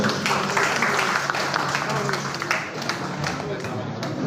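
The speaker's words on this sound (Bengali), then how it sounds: "করতালির মাধ্যমে ওনাকে স্বাগত জানাই।" An audience at the annual general meeting of the Bangladesh Road Transport Owners Association claps to welcome a guest, a dense, steady patter of many hands lasting a few seconds.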